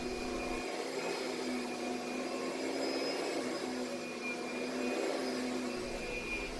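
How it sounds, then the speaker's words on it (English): A vacuum cleaner runs steadily over carpet during stain removal cleaning, its loud, continuous motor whine and airflow hiss unbroken throughout with no voices. "Another reason why we want to vacuum this very thoroughly is because we want to get all the particles and the dust and the dirt"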